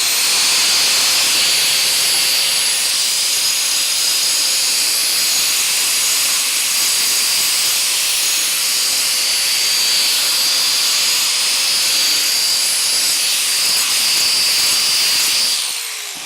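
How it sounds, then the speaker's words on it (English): Angle grinder dressing the cut edges of a metal piece for a table build, a steady loud high-pitched whine with harsh hiss running continuously for about sixteen seconds before tapering off at the end. "And you always want to get the grinder."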